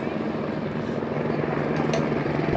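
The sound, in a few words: helicopter flying near Kedarnath helipad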